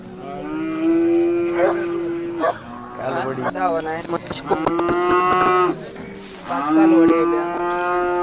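Cattle, including bulls, moo loudly and repeatedly at a calf market in Modnimb, long low bellowing calls close by, with a few shorter vocal bursts and some background commotion in between.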